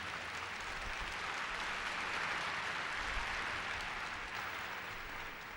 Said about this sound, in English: y'all didn't clap loud enough on that.